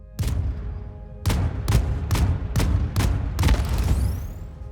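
A cargo container in the space game Void Crew is blasted apart by a rapid series of about six loud, close impacts, each a sharp burst with a booming low tail, ending in a fading metallic whine.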